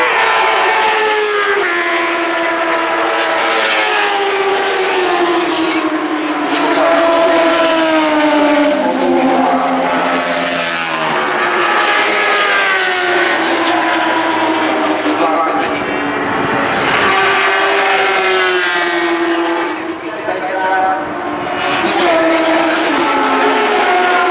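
Classic superbike motorcycles race at the Brno circuit, their engines rising and falling in a continuous loud drone as they pass, with a commentator talking throughout.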